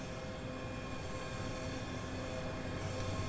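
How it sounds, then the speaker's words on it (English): Train pulling into Dunblane station on a Glasgow to Dunblane route in Train Simulator Classic, a steady unbroken rumble of rolling stock and engine drone that stays even and moderately loud throughout, with no voices. "you can see there's another train now coming in"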